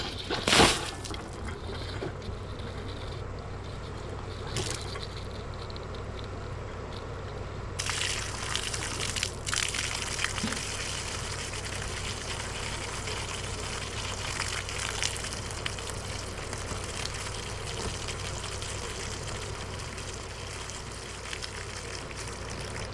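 Water running from an outdoor hose bib at a well house, a steady close gushing rush that carries on for the whole stretch, with a louder splash near the start and no speech.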